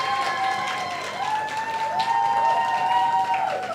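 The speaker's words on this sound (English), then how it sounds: "Please clap." An audience claps at a research awards session, a steady wash of applause heard under a prominent sustained electronic tone that rises and holds in waves, fairly loud and continuous throughout.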